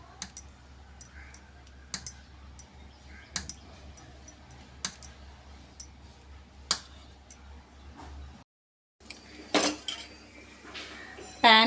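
A spoon repeatedly clinks and taps against a bowl while gunta ponganalu batter is mixed, giving sharp irregular metallic ticks over a low hum, close up, with a brief pause near the end.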